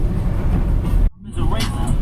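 A Subaru car pushes through heavy slush during a snowstorm, giving a loud, close, continuous wet roar of tires and engine that drops out briefly midway, then resumes.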